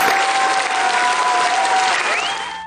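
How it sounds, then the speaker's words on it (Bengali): Audience applause at a prize and memento ceremony, a dense burst of clapping that holds steady and then fades toward the end. "করতালি দিন"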